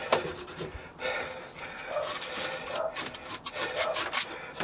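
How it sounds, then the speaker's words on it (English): Sawdust rubbed over wood to wipe off excess glue, likely on pallet wood: close, scratchy rubbing strokes in uneven bursts, fairly quiet with no talking. "Just grab a bit of sawdust here and wipe the excess glue off."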